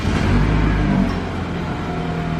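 A turbocharged BMW F30 328i N20 engine with a CSF intercooler cranks and catches with a brief rising rev, then settles into a steady, close idle hum.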